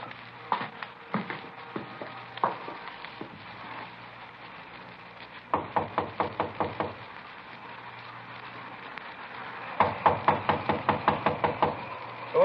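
Sharp knocks on a door in a radio crime drama, several rapid bursts of five or six raps in a row, repeated three times over a low steady background hum.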